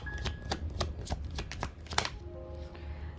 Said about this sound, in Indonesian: Satu kartu untuk Libra, satu kartu untuk Cancer, dan satu kartu untuk kalian berdua.